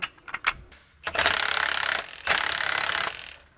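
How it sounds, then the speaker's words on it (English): A spring compressor ratchets tight on a front strut from a 2018-2024 BMW G01 X3, a few loose clicks and then two long, loud, rapid ratcheting runs with a short pause between them. "we're going to just grab our strut compressor here"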